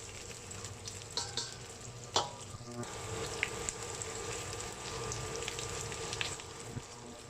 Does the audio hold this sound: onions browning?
yes